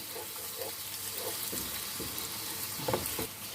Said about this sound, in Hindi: खड़े मसालों और अदरक को हम मिक्स कर लेते हैं, बुनाई कर लेते हैं।